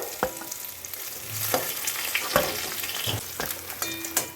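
Hot oil sizzles steadily and close up as fish fry in a pan, broken by sharp scrapes and clatters of a spatula turning the fish.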